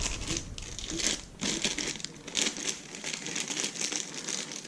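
A GoPro Hero 8 Black is pulled from its packaging, giving steady close crinkling and crumpling of plastic and cardboard, loud and continuous with brief pauses.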